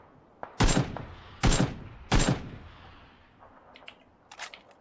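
Gunfire in PUBG (PlayerUnknown's Battlegrounds): three loud, sharp shots about a second apart, followed by fainter, more distant shots trailing off.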